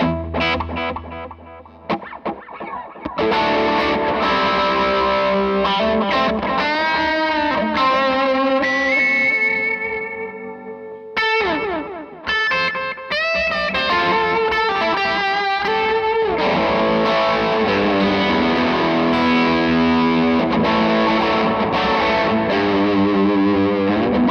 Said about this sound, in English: here's a bit of delay from a flashback